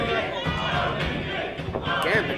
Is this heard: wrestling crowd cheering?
yes